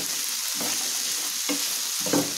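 Mixed vegetables and soaked peas sizzle steadily in a pan for a vegetable gravy, with three short scraping stirs of a spoon breaking through the constant close frying hiss.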